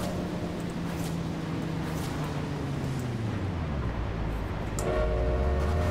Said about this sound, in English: It's a train. Where is it?